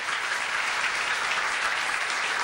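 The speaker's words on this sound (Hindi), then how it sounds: "एक बार जोरदार तालियों से स्वागत कीजिए।" A crowd at a religious gathering with Guru Rajendraji Maharaj applauds loudly to welcome guests, a dense, steady wash of clapping that holds for the whole stretch with no pauses.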